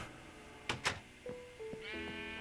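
Sheep in the Minecraft video game give a few short bleats with a couple of other faint game sounds, close and clear with no talking over them.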